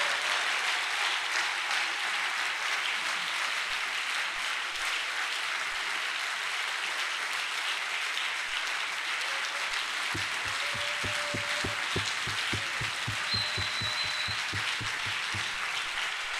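A church congregation applauds steadily throughout, a dense wash of many hands clapping in a large room, with a few rhythmic beats joining near the end.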